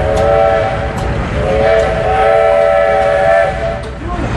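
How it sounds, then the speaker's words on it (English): An old steam engine at a threshing show in Edgerton, Wisconsin sounds a loud, sustained steam whistle over rumbling machinery. The whistle holds for a couple of seconds, pauses briefly, then sounds again amid outdoor crowd noise. "We're getting into a few of the old steam engines."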